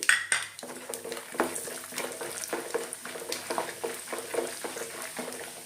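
Peanuts and chana dal frying in a pan for temple-style puliyogare, with repeated light clinks and scrapes of a spoon stirring against the metal over a soft sizzle, close and steady, no talking.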